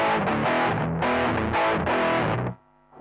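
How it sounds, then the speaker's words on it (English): A heavily distorted electric guitar through a Zoom 3030 effects unit plays a few sustained chords, then cuts to a quieter, cleaner ringing tone at the end. "now it's distortion, and now it's less"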